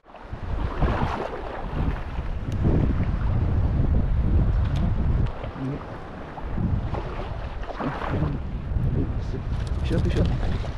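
At dawn, a motorboat runs across open water, its engine drone steady beneath wind buffeting the microphone and the wash of water. Someone talks over the noise.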